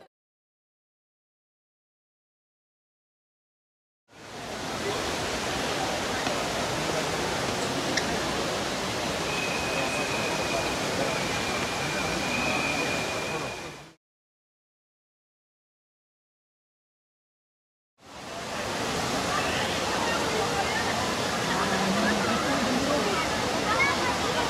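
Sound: splashing water of the Trevi Fountain in Rome

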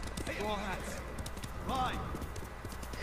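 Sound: horses galloping in video game Ghost of Tsushima

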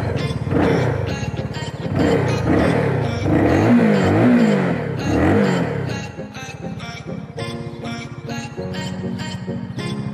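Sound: CF Moto 300SR motorcycle engine running

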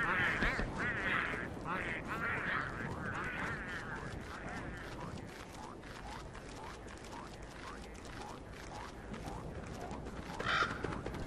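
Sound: crow cawing in the video game Don't Starve

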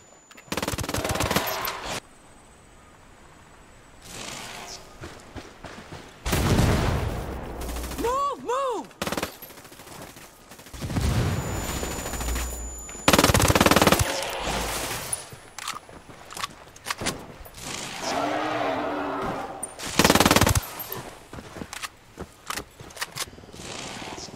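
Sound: gunfire from the video game Ghost Recon Wildlands

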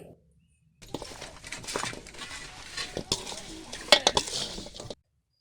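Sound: mutton pieces being mixed with turmeric and homemade masala

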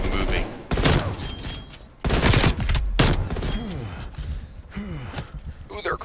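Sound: gunfire from shotguns and pistols in a video game

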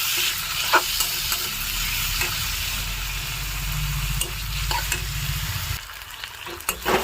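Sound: stirring marinated chicken frying with onions

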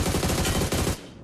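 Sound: gunfire in a battle royale video game

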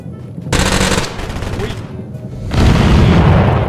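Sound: gunfire in Totally Accurate Battlegrounds video game

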